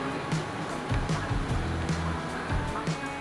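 Surf breaking on a beach at Anyer, a steady wash of waves rolling in with soft repeated surges, fairly close and continuous with no talking.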